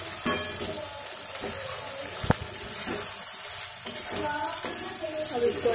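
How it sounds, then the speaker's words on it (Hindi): Ginger garlic paste and spices fry for mutton curry in a steady, close sizzle, with stirring scrapes and light clinks of the utensil against the pan throughout, and no talking. "अब इसको अच्छे से फ्राई करना है।"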